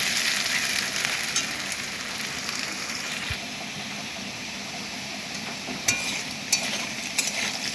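Potatoes frying in a pan, giving a continuous, even sizzle with sparse light crackles and a few brief clicks or stirs toward the end, moderately loud and close, with no voices.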